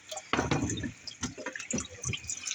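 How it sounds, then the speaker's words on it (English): Water running from a kitchen sink tap as a knife is rinsed during pumpkin preparation, a steady close splashing stream with small drips and clinks, no talking. "I like to rinse off my knife, even if I'm not going to wash it right there"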